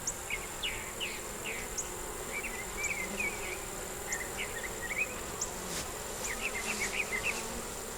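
Honey bees on a hive frame make a dense, continuous buzz up close, with individual bees whining past in short, rising and falling bursts, and no talking.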